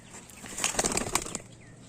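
A quick flurry of pigeon wings flapping close by, a short burst of rustling beats in a quiet setting.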